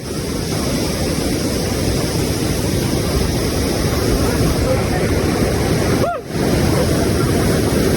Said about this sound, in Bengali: এদিকে ঝর্ণা বয়ে যাচ্ছে।